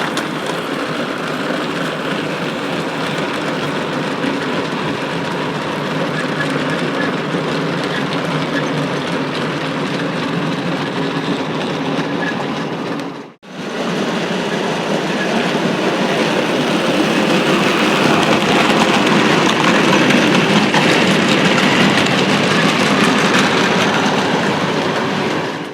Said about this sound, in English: First up train of the morning is the Perishables up from the west,